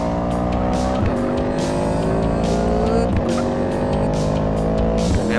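Yamaha YZF-R1M motorcycle engine in a GTA San Andreas mod accelerating at top speed, a loud, continuous high-revving whine that climbs steadily through gear shifts with a brief dip at each change, heard alone.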